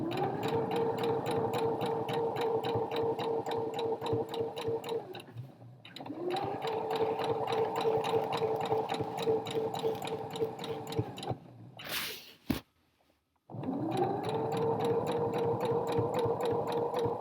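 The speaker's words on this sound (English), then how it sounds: "it's a normal stitch, just like we've used all the way through, and we're just going to stitch down that side." Domestic sewing machine running a normal straight stitch down the side seam of a pair of trousers, whirring steadily in three long bursts separated by short pauses and a brief click, with no talking.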